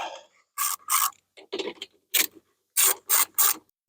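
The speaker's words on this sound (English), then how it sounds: "we're gonna take our 10mm socket and we're just gonna crank these off" A 10mm socket wrench cranks carburetor nuts off a small engine, with short bursts of close, sharp ratcheting clicks separated by silent gaps, about eight bursts in quick irregular rhythm.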